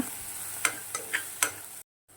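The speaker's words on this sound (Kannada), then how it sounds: "ನಾನು ಸ್ವಲ್ಪ ಶುಂಠಿ ಬೆಳ್ಳುಳ್ಳಿ ಪೇಸ್ಟ್ನೂ ಹಾಕ್ತೀನಿ. ಅದನ್ನು ಸ್ವಲ್ಪ ಫ್ರೈ ಮಾಡ್ಕೊಳ್ಳೋಣ." Ginger garlic paste frying in a pan for an egg fry, a steady soft sizzle broken by a few scraping stirs, then a sudden cut to silence near the end.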